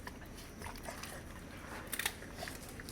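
Several dogs chew and crunch chicken bones and pieces close by, with soft irregular bites and a couple of sharper cracking crunches near the two-second mark.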